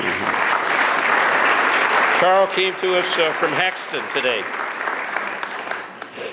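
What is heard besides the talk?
audience applause for donors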